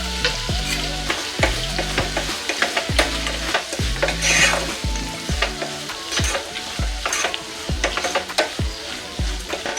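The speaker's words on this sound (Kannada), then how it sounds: "ಒಂದು 2 ನಿಮಿಷ ಇದನ್ನು ಎಣ್ಣೆನಲ್ಲೇ ಫ್ರೈ ಮಾಡ್ಕೊಳ್ಳೋಣ" Onions frying in oil with salt for a quick onion rice, a constant sizzle broken by repeated sharp scraping and knocking strokes of a spatula against the pan in a steady, busy rhythm.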